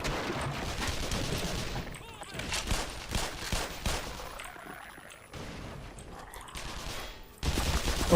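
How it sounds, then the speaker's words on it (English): Bursts of enemy gunfire from the video game Black Mesa, ringing out in irregular volleys at close to mid range, loud and sharp, with gaps between the firing. "Oh, he's shooting at me."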